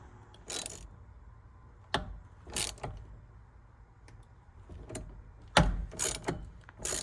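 Nut being tightened on a Chevrolet Tahoe/Silverado steering wheel with a ratchet tool, short bursts of metallic clicking separated by quiet pauses, close and moderately loud.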